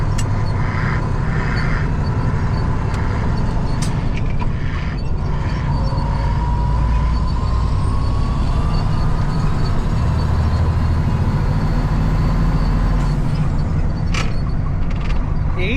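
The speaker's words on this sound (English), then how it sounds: "Got her kind of struggling a little bit. Too high a gear." A big green John Deere farm tractor labors in a field in too high a gear, its engine a steady, heavy low drone that rumbles continuously and loud throughout with a faint whine riding on top.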